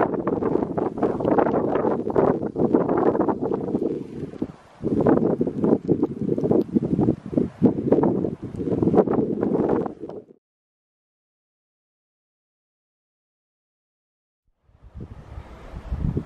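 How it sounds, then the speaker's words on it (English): Wind blowing outdoors on a snowy hike with steady light snow, a loud, rough buffeting rush against the microphone for about ten seconds, then a quiet lull before the gusts pick up again, with no talking. "Wind died down for a minute."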